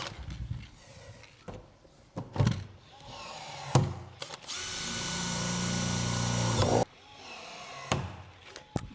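Rivets are fixed into the raised profile of an insulated metal clad panel sheet for a garden room, with sharp clacks from the rivet tool and a sustained whirring burst in the middle, close by and without talk.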